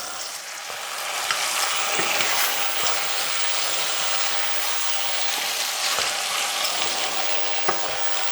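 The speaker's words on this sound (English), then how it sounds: "And now you can baste your steak with the melted butter." A steak sizzles steadily in a stainless steel pan with melted butter, a loud continuous frying hiss with small crackles and pops throughout, close by and with no talking.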